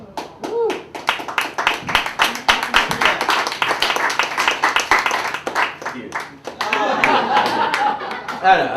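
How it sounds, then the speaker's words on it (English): An audience claps slowly and deliberately, each loud clap spaced apart in a steady rhythm, with some scattered laughter and chuckling mixed in toward the end. "Slow clap."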